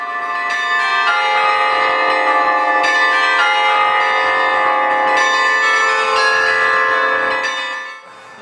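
Carillon bells at the University of Denver ring out a sustained melody, many bronze tones overlapping and sounding loud and resonant without interruption before fading at the end.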